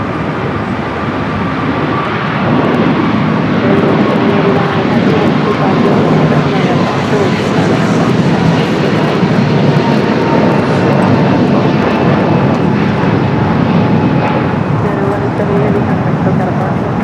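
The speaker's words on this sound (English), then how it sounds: "got that United 777 now rolling down the 25 right" A United Boeing 777 rolls down runway 25 right at Los Angeles LAX on its takeoff run, a loud, sustained broadband jet roar that holds steady throughout, with voices talking over it.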